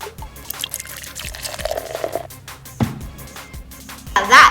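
Slime activator is poured into a slime mixture, giving wet dripping and trickling sounds with a few splashy drops, close and fairly quiet, with a brief louder splash near the end.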